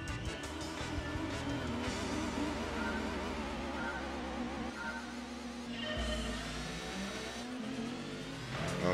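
Race car engine roaring steadily at the start of a race at Autumn Ring in Gran Turismo 2, loud and continuous with shifting revs throughout.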